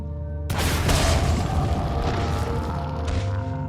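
A newly bought gun fired in a video game gives a loud booming blast that opens sharply and then rumbles on as a sustained, dense roar with no speech.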